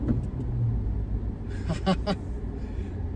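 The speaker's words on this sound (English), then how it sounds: "almost 3000 RPM, and this is where it actually fires up" A turbocharged Suzuki Jimny engine drones steadily from inside the cabin as it accelerates, a continuous low rumble with someone talking over it.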